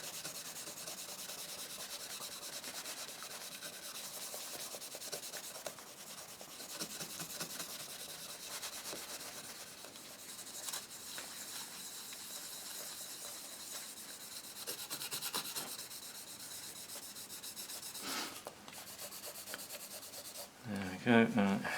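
Chrome-finish plastic is scrubbed by hand with cutting compound, giving a steady, close rasping rub that continues for a long stretch with brief pauses and faint talk at times.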